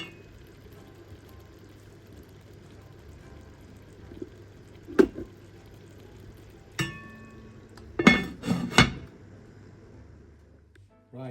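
Partly cooked rice is spooned over simmering chicken in a big pot for a Sindhi biryani, giving a few sharp metal clinks and scrapes. The clinks come in short bunches amid a quiet background simmer.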